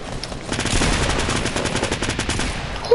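Rapid SMG gunfire in Fortnite, a continuous close burst of fast shots lasting a few seconds, loud and alone with no talking.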